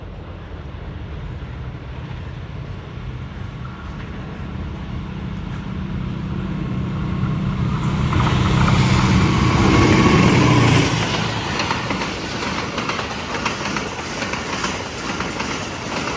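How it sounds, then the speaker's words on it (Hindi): The 40 Down Jaffar Express passing on the main line in rainy weather, a loud continuous rumble of rolling carriages with clickety-clack that swells to a peak midway and then eases while still running past. "काली घटाएँ छाई हुई हैं और उनके दरमियान से 40 डाउन जाफर एक्सप्रेस ZC206410 के साथ नमोदार होते हुए यहाँ से मेन लाइन थ्रू पास करेगी।"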